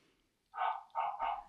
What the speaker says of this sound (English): He set it to barking so that if it detects water